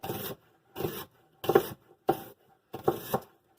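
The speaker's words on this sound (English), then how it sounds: "I'm just going to rough chop this, or slice it, I should say." A knife cuts through a harvested vegetable into thin slices in five evenly spaced rasping strokes on a board, close and alone with no talk.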